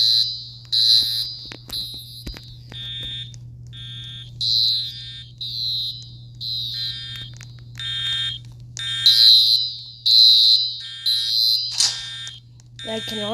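A shopping mall fire alarm sounds during a test, repeating loud electronic beeping tones in rhythmic bursts over a constant low hum, in an enclosed indoor space.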